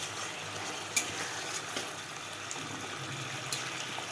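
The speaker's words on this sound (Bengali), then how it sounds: "তো ঝোলটা ফুটে উঠেছে, এবার এক এক করে ডিমগুলো দিয়ে দেবো।" Kerala-style egg curry gravy simmering in a pot as eggs go in, a soft continuous bubbling hiss with a few light clicks and taps, fairly quiet and free of speech.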